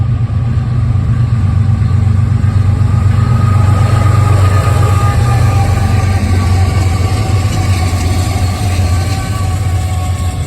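A loud, steady low rumble of a passing Norfolk Southern train in Glendale, Ohio, rolling continuously and close by with no voices.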